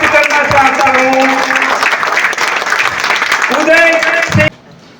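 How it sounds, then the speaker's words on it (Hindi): A standing audience claps loudly and steadily while a voice speaks over the applause, which then cuts off abruptly near the end. "बहुत अच्छा स्टैंड अप होकर ताली बजा रहे हैं"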